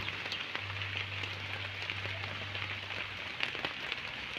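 Steady rain pattering on a surface, soft and continuous, with a low hum underneath for the first few seconds.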